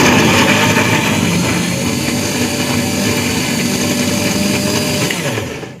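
An electric mixer grinder whirs loudly and continuously while grinding green chili, tomato and coriander chutney in a home kitchen, the motor droning steadily before cutting off and fading at the end.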